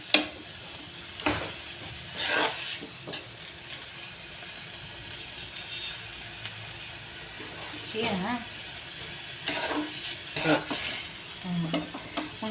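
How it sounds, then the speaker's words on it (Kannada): Food sizzles and fries in a pan while being stirred, with intermittent scraping and clattering strokes over a steady crackle, and someone talks over the cooking. "ಆಮ್ಯಾಗ ಇದಕ್ಕೆ ಇನ್ನೂ ಸ್ವಲ್ಪ ಫ್ರೈ ಆಗ್ಬೇಕು ರೀ."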